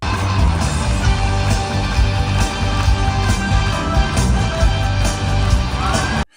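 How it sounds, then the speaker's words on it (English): A concert crowd grows louder as a singer hugs a man on stage, a dense, sustained wash of cheering and shouting over music that stays loud until it cuts off abruptly at the end. "The crowd gets louder, but the moment quickly becomes unexpected"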